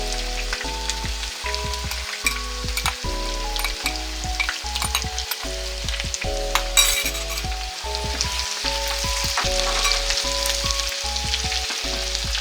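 Onions fried until golden brown sizzle steadily in hot oil with ginger garlic paste and crushed green chillies for chana dal pulao, a dense continuous crackle with brief louder spits and stirring scrapes, close and without talk.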